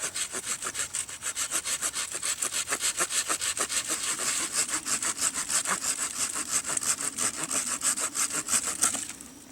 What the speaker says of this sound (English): we're going to try and cut this off at a fairly straight angle